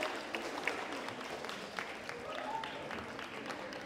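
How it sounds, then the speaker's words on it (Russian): Audience applause for young participants at an awards ceremony of a cosplay festival, a steady wash of clapping throughout with a few louder claps near the start, at moderate distance with no talk. "Аплодисменты юным участникам Атом Коскон"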